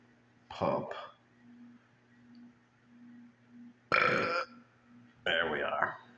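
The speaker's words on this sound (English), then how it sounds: "Morning burp." A man who has just woken up lets out a throaty morning burp, one of several short guttural bursts separated by quiet gaps, with a low steady hum underneath.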